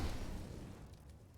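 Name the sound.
incendiary grenade thrown and burning in video game CS:GO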